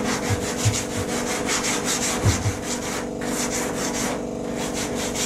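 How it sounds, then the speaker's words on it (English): Continuous rough sanding with a hand tool over a freshly laminated carbon patch on a windsurf board nose, a steady rasping scrape in rhythmic back-and-forth strokes, close and alone with no talk. "Then I use this tool to give it a rough sanding to get rid of any bumps."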